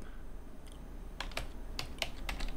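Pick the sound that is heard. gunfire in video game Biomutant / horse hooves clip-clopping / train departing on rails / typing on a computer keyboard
typing on a computer keyboard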